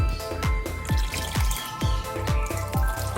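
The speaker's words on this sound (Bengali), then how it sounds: "আর জল দিয়ে খুব ভালো করে আমি লাউগুলোকে ধুয়ে নেব।" Water drips and splashes in quick irregular bursts while bottle gourd pieces are rinsed by hand, close and fairly loud with no talking.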